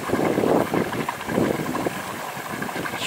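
A mud pot at the Seltun geothermal area churns and bubbles, giving irregular low gurgling bursts over a steady windy rush outdoors.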